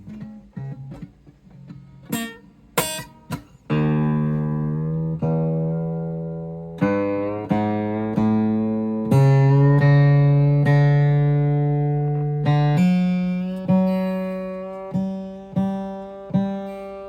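A Martin Nub guitar, bridge reattached with epoxy, played plugged in: a string of plucked notes and strummed chords sounding close, each attack decaying into a sustained ring, with short gaps between phrases.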